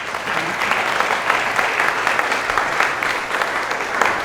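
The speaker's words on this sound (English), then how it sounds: "please join me in a warm round of applause." Sustained audience applause at a panel discussion, loud and dense, steady clapping from a large crowd for several seconds with no talk over it.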